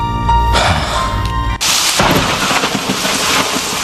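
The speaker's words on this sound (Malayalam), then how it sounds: "പുറത്ത് ഇരുട്ടും ഇടിയും മഴയുമാണല്ലോ." Thunder rumbles and rain pours in a Malayalam radio drama, a sustained tonal sound giving way at about 1.6 seconds to a dense, loud wash of rain with low rolling thunder, with no voices.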